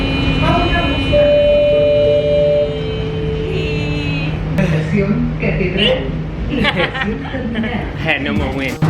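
Buenos Aires metro train in motion, with steady high electric whines and low rumble throughout and people talking over the ride.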